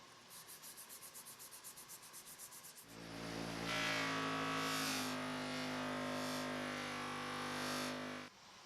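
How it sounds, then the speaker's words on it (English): A buffing wheel spins up and runs steadily while knife scales are polished against it with pink rouge, a smooth humming whir with faint rubbing, ending abruptly after about five seconds. "polish them on a buffing wheel with pink rouge."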